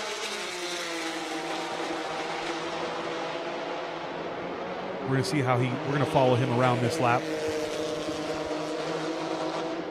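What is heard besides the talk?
race car lapping Circuit of the Americas at Super Lap Battle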